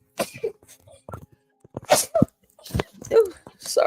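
A sneeze mixed in among ongoing talk during a news and politics discussion. It comes as a sudden close burst between the voices.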